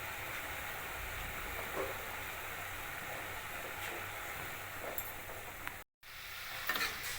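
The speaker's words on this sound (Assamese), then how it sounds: "এতিয়া মোৰ শাকখিনি ভাজি লোৱা হৈছে।" Radish greens frying in a pan, a soft steady sizzle with a few light scrapes of stirring, no voices.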